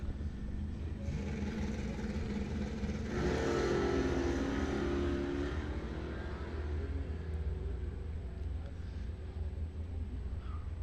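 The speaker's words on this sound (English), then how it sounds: "It's an 81 Malibu taking on Travis East in his 88 Mustang Cedar City Motors side." A 1981 Chevy Malibu and a 1988 Ford Mustang launch side by side at a drag strip, engines roaring in a broad distant rumble that swells around the launch and then fades as the cars run off.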